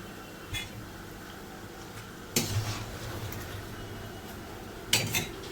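A slotted metal spoon stirs sweet wheat-flour pieces frying in oil, with three sharp clinks against the pan standing out over a quiet, faint background.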